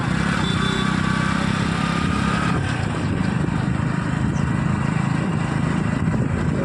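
A motorcycle rides through a village market, its steady engine drone running loud and continuous throughout with a faint rumble of surrounding activity.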